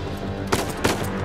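Two sharp, loud gunshots about a third of a second apart in the video game Uncharted 4 on PS4 Pro, set against a steady background game soundtrack.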